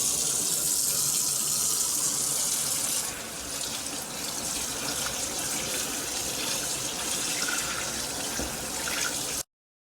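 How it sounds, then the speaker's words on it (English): Cold tap water pours steadily over cabbage sitting in a colander, a constant close hiss and splash that softens slightly partway through and then cuts off abruptly at the end. "We want to rinse the cabbage under cold water."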